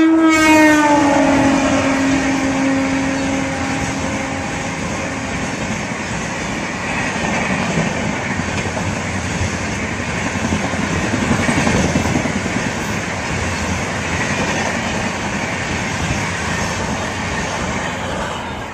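A Chetak Express passenger train (20473, Delhi to Ajmer) runs on rails. A loud horn blast opens over a steady, heavy rolling rumble that continues throughout, with no one speaking.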